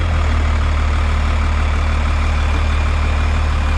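A 1957 International S100 truck with a swapped-in 12-valve Cummins diesel engine runs steadily with a loud, deep, continuous low rumble. There is no speech and no change in the sound.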